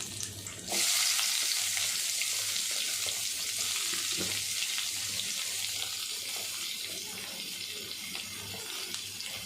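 Onions sautéing in a hot pan for a fish roe fry, a steady broad sizzle that starts abruptly and holds close and fairly loud throughout, with no talking.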